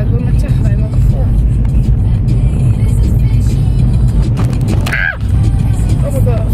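A car drives by on a Westland dike road, a loud, close rumble of passing traffic heard from inside a moving vehicle. The noise stays constant, with a brief sharp squeak around the fifth second.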